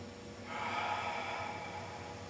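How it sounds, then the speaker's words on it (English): A deep breath drawn during a qigong exercise, a soft, steady inhalation that swells after half a second and holds faintly, close and quiet, with no talk. "we take a deep breath"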